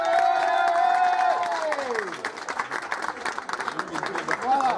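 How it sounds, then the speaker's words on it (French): A crowd at a big-eater contest claps and cheers for the first woman finisher. The applause and cheering are moderate in level and sit under a prominent amplified voice, with a sustained musical tone fading early on. "un tonnerre d'applaudissements pour notre première féminine,"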